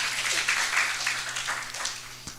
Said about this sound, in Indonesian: Yang percaya beri tepuk tangannya dahsyat.